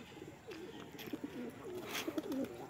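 Soft, repeated pigeon coos, low and throaty, close by with faint background noise, from pigeons including fantails.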